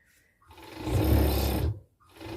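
A sewing machine runs in one steady burst of about a second, a low motor hum with a fast needle chatter, starting and stopping cleanly before a quieter resumption.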